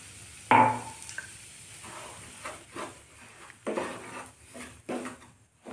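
A spoon clinks and scrapes in a cooking pot while a sweet batter is stirred, one sharp metallic knock followed by several softer scraping and tapping sounds, close and fairly quiet.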